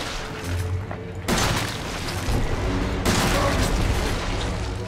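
Shotgun blasts from the video game Resident Evil 7, two loud sudden bursts a couple of seconds apart with lingering noisy decay, set against dense game ambience.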